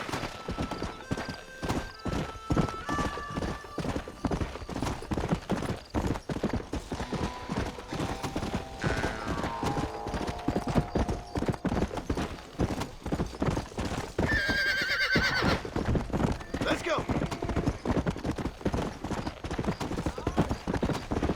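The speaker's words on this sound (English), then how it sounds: "Here's your horse, friend." Horse hooves clip-clop steadily and loudly through an open-world Western setting in Red Dead Redemption, with a horse whinnying partway through and faint game ambience underneath.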